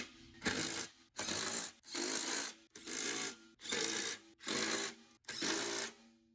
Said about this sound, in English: Now install the final 2 bolts and nuts for each side panel, and tighten all 8 nuts completely.